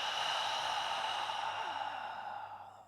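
A long, soft exhale pushed out through the mouth during yoga breathing practice, close and breathy, slowly fading over a few seconds.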